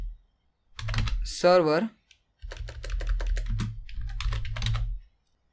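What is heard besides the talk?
typing on computer keyboard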